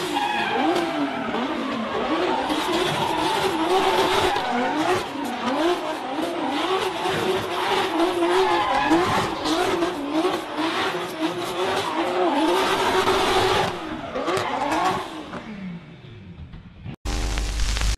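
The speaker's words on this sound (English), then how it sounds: "This car drifts and does donuts around the warehouse before perfectly parking in the garage." A car drifting and doing donuts around a warehouse, tires squealing and skidding continuously over a revving engine, loud and close, ending abruptly.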